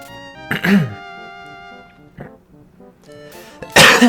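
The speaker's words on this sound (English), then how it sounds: "Sorry for all the coughing." Two sharp, loud coughs burst out close to the microphone, one early and one at the end, over soft sustained background music.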